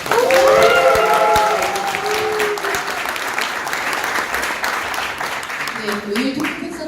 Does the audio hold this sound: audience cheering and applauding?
yes